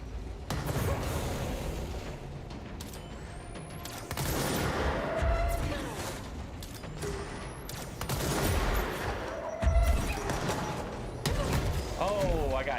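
Gunfire in the video game Control: repeated bursts of shots and impacts at irregular intervals, loud and close, mixed with mechanical clanks and booms while a person talks over it.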